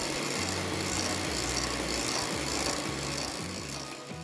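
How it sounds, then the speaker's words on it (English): An electric hand beater whisks two egg whites with a little salt, giving a loud, steady motor whir with a pulsing low hum that runs unbroken throughout. "whisk it with an electric beater till it turns out creamy"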